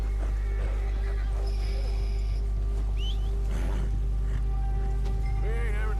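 A horse in Red Dead Redemption 2 gives a clear neigh and a whinnying call near the end, over steady hoof clip-clop and a low continuous rumble, with a faint voice in the background.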